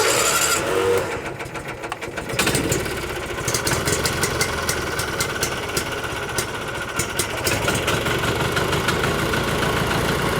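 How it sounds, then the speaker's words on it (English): An Argo amphibious vehicle engine with a repaired fuel system is cranked over and catches. It churns rapidly and unevenly at first, then settles into a steady close idle with a sharp ticking over it. "it might start and fire, but I expect we're going to have to turn it over quite a bit to suck fuel up out of the tank"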